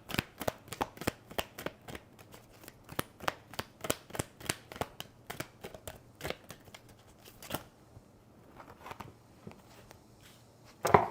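Tarot cards being shuffled, a quick run of crisp riffling flicks and soft slaps in a steady rhythm, close and clear, pausing briefly near the end before a few final snaps.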